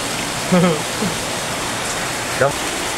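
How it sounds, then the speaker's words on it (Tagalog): Steady broadband hiss of heavy rain pouring down, with a couple of brief louder bursts cutting through the constant downpour. "Ang lakas talaga ng ulan dito"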